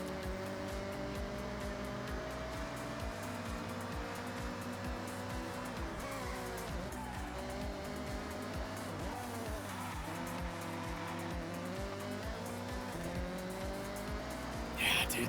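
A racing car in the Forza Horizon driving game, with a continuous engine drone and layered tire squeal and skidding through hard braking and cornering, sustained and fairly faint.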